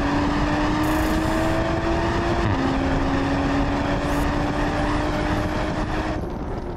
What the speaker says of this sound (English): When the turbo is spooled, the sounds you get, the stock sound, put that in sport mode and the stock sound sounds so damn good.